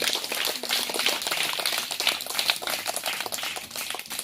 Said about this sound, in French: on acclame encore pour Papa Dieu